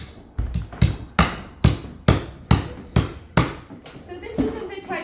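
Rocks being hammered to crush them for potting soil, with about ten sharp, evenly spaced strikes in a steady rhythm, close and loud, slowing slightly near the end.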